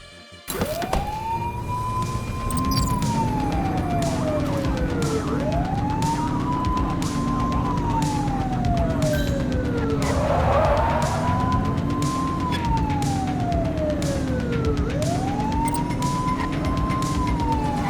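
Police car sirens wail during a pursuit in the video game The Precinct, rising and falling in long sweeps over a steady engine rumble, loud and continuous throughout.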